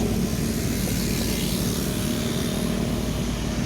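An intercity bus rolls along a Sumatran highway near Palembang, a steady loud engine and tyre roar that holds evenly throughout without fading, with no talk.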